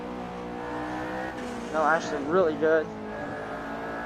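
A McLaren P1 engine drones and revs on Silverstone in the racing game Assetto Corsa, with harmonic whine shifting as the car brakes and corners and tires squeal briefly; someone talks over it.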